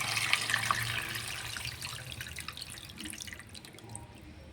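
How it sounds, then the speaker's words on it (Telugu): Tamarind water trickles into an egg curry with a faint, soft pouring and dripping sound that gradually thins out. "కలిపిన దాంట్లోనే మనం ముందుగా ప్రిపేర్ చేసుకున్న చింతపండు పుల్లని వేయాలి."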